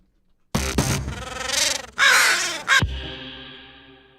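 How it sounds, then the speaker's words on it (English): Crow caws used as a sound effect in a music production break out in a few loud, harsh bursts, sharp and close, then fade into a lingering processed tail. "Or what if we put a crow halfway in?"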